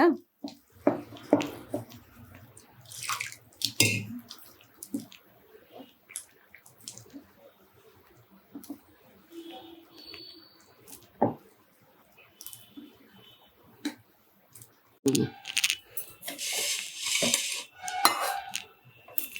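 Egg bajji batter being mixed with water, heard as bursts of clinking and scraping strokes that come and go, with quieter pauses between rounds of mixing.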